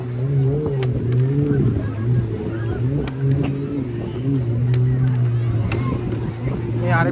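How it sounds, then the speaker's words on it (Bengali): A speedboat motor drones steadily near Toronto Island, a loud close hum that runs without pause under occasional clicks and knocks on the water. "স্পিডবোটে করে সম্ভবত"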